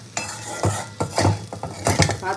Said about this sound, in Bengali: এবার সসটাকেও খুব ভালো করে মিশিয়ে নেবো।